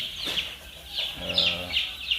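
Free-range village chickens cluck and call close by in a short, busy burst of overlapping hen voices outdoors, with no talk over them.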